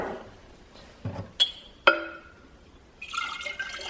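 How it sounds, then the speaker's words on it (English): Homemade elderberry syrup with honey is poured into a large glass mason jar, producing a few soft liquid splashes and sharp glassy clinks, followed by a brief trickling pour, close and quiet with no voices. "Once you're sure it's mixed good, you can pour it into the container."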